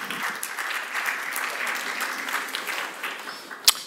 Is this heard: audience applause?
yes